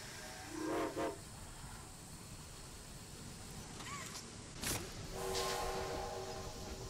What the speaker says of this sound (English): Make sure you do the train whistle.